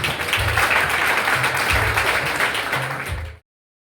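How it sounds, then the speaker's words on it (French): An audience at the Miss Ouvrière Haïti 2024 pageant final applauds a contestant with steady, dense clapping for about three seconds. Intermittent low tones sound underneath before the clapping cuts off abruptly. "Sur vos applaudissements, s'il vous plaît."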